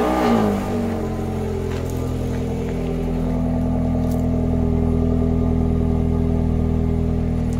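A Citroën C4 VTS 180 hp engine with a stock rear silencer and the intermediate muffler removed gives a loud, close rev that quickly falls back to a steady, deep idle.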